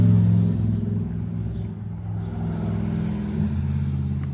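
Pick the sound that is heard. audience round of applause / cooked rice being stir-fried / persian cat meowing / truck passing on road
truck passing on road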